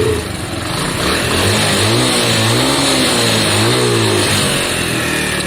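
Close and loud, an old Lexmoto Valiant motorcycle engine with a carburettor fault runs continuously, revving up and down in several swells and straining and choking as it reaches higher revs.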